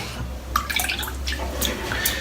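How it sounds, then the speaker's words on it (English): A shaving brush dips into a sink of water, giving small wet splashes and drips, soft and close in a few light bursts over a quiet low room hum. "Let's dip the brush in the water."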